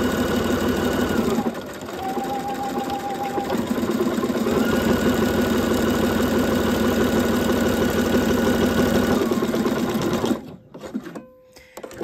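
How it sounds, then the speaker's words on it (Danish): A sewing machine on default settings stitches a buttonhole with thick Gütermann denim thread, running as a rapid, steady mechanical whirr with a brief tonal whine early on, then stopping abruptly near the end and leaving a few faint clicks. "nu laver jeg bare knaphullet, som maskinen vil vælge at lave det"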